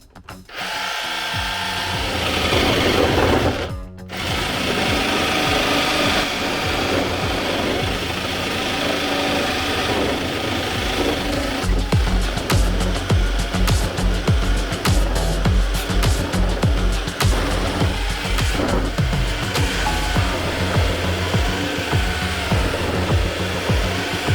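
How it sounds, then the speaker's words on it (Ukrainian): A Revolt multitool fitted as a reciprocating saw cuts through a 100x100 wooden beam. A loud, continuous motor whine with a brief pause early on, then a rattling, grinding cut that keeps on steadily to the end. "давайте попробуємо, як тепер буде справлятися шабельна пила"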